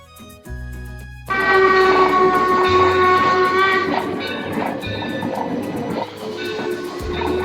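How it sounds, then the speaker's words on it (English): Loud, sustained whistle of a coal-fired steam locomotive, the Torch Lake at Greenfield Village, Michigan, over heavy rumbling and hissing, with deep low pulses underneath, close by and continuous. "It's a coal-fired steam engine"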